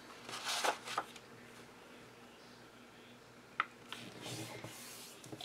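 Sheet of paper folded into thirds, giving soft rustles and crisp creasing rubs in a few short bursts, close and quiet.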